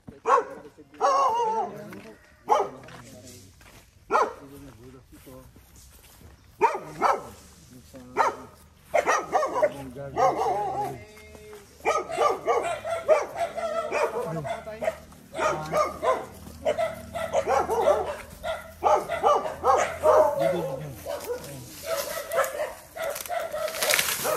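A dog barks repeatedly in irregular bursts, fairly close, mixed with people talking throughout.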